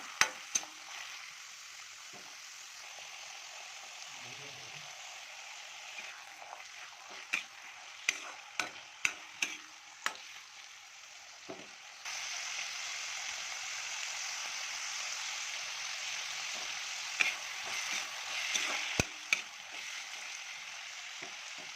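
Baby potatoes fry in a pan, giving a steady close sizzle with scattered crackles and pops. The hiss swells louder and denser about halfway through and continues without any talk.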